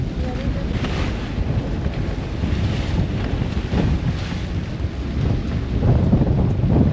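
A squall hits a sailing catamaran near Rangiroa: loud, continuous wind roars and buffets over the hull and rigging, with water rushing below, and gusts swell toward the end.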